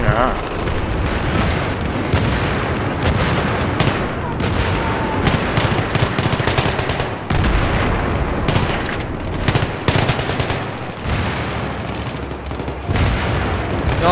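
Sustained automatic gunfire and explosions in Battlefield 3, loud dense bursts running almost without pause, with voices talking underneath.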